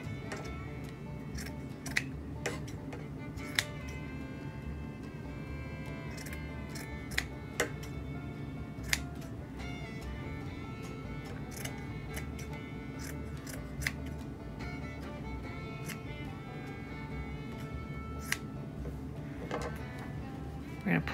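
Scissors trimming loose ends on a DIY fall Halloween home decor craft, a steady series of crisp close snips at irregular intervals over a quiet low hum.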